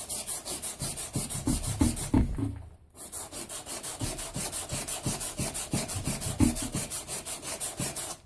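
Wet sandpaper rubs back and forth over an aluminum part in a steady, rapid rhythm of close strokes, broken once by a brief pause before resuming.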